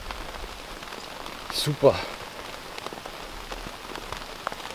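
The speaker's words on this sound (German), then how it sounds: "Aber der Regen, der macht echt einen fertig." Steady rain falls on a surface at a carp-fishing spot, a soft, even patter throughout, with one brief spoken word near the middle.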